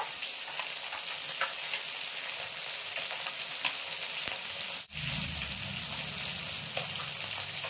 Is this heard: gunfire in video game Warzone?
no